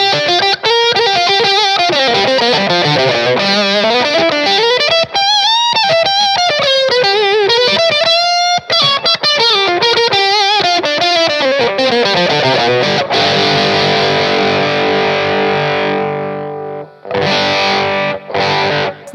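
Electric guitar played through a GOAT analog distortion generator pedal for a Rockman-style tone: a heavily distorted, chorus-tinged lead line weaving up and down, then a sustained ringing chord cut off by a few sharp stops, loud and upfront.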